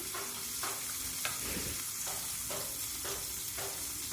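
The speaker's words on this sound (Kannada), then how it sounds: "ಕಟ್ ಮಾಡಿ ಇಟ್ಕೊಂಡಿರೋ ಈರುಳ್ಳಿನ ಸೇರಿಸ್ಕೊತಾ ಇದ್ದೀನಿ." Chopped onions sizzle steadily in hot oil inside a pressure cooker, a continuous close frying hiss with a few soft stirring scrapes and no voices.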